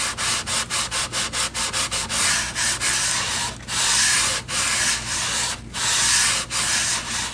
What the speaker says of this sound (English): I can just take my radius sanding block and